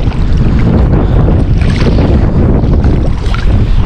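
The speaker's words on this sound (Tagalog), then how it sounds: "Mahangin na po ngayon." Strong, steady winter wind in Taiwan buffets the microphone with a loud, continuous roar and no speech.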